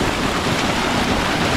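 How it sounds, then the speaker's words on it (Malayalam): Heavy rain pours down on a trekking trail in Nagaland, making a dense, steady hiss that stays even and unbroken throughout with no voices. "ശരിക്കും ഇങ്ങോട്ട് ഫുൾ മഴയായിപ്പോയി"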